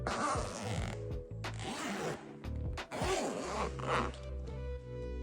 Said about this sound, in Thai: แล้วก็จะมีซิปนะครับ เดี๋ยวเปิดซิปให้ดูนะครับ